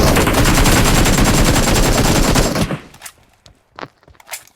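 Automatic rifle fire in PUBG on the Livik map, a long rapid burst of loud close shots for over two seconds, followed by a few sharper isolated shots and faint movement.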